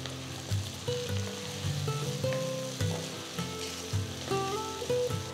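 Onions sautéing in a pan for brinjal kara kuzhambu give a steady close sizzle, with light stirring clicks and scrapes over the continuous frying.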